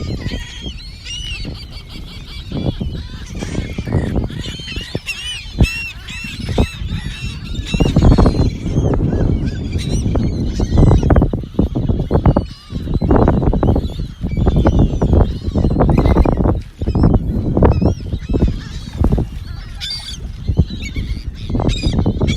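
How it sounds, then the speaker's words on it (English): Seagulls on a North Naples, Florida beach call noisily in a dense, overlapping chorus of loud honking cries, some near and some farther off, continuing without pause for over twenty seconds. "Noisy seagulls this morning."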